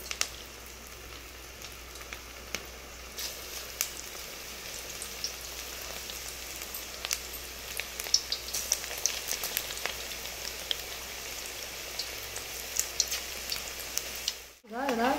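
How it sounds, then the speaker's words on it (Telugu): Egg pakoda batter fries in hot oil in a kadai, giving a steady, crackling sizzle with scattered pops, moderately quiet and unbroken, ending in a sudden thump near the end. "కడాయి పెట్టి ఆయిల్ వేడి చేసుకున్నాను. ఇప్పుడు మనం కలుపుకున్న పకోడాని దీంట్లో వేసేద్దాం."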